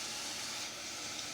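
Burger patties sizzle in a hot pan, a steady, broad hiss of frying that holds evenly through the short moment with no voices.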